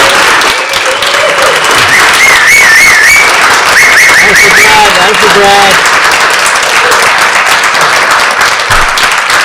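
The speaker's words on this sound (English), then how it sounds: "we're going to wrap up the show with a nice big round of applause" Loud, close applause and cheering from a live podcast audience closing out the show, dense clapping throughout with whistles and shouts layered over it and a brief spoken remark mixed in.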